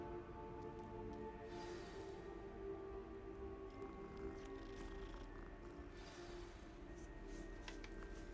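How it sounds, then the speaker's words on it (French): A cat in the video game Hogwarts Legacy purrs softly and continuously for several seconds, with faint game ambience beneath it. "Un chat."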